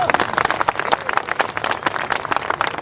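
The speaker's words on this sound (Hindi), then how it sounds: "हमारी स्पेस एजेंसी इसरो के लिए एक बार जोरदार तालियां बजाइए।" A large crowd at a Republic Day poetry gathering in Godda's Gandhi Maidan claps vigorously for ISRO, with sharp irregular bursts of many hands, loud and close, rising again at the end.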